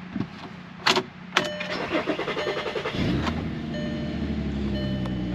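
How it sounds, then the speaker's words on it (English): A 2006 Volkswagen Passat, its interior carpets dirty, is started up: a couple of clicks and a short starter crank, then the engine catches at about three seconds and settles into a steady, loud idle that fills the rest of the clip. "All right, let's fire it up."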